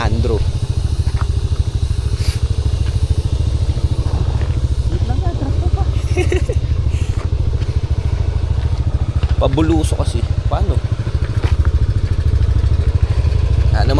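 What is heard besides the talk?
motorcycle engine running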